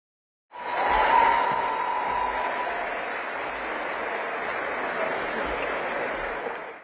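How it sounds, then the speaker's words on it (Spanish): Applause in the Salón de Honor of the former National Congress as an ex-president arrives: a crowd's sustained clapping starts abruptly, holds loud and dense for several seconds, and fills the hall with no speech over it. "La presencia del expresidente Gabriel Boric, recibido entre aplausos en el Salón de Honor del ex Congreso Nacional"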